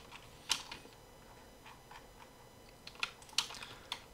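Keys on a computer keyboard click in sparse, light taps and short clusters while a PLC is programmed, quiet and close with no voices.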